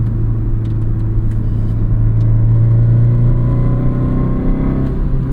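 A 2023 Honda Civic Si engine under hard throttle gives a steady loud drone and rumble from inside the car, with the engine note rising slightly as it accelerates.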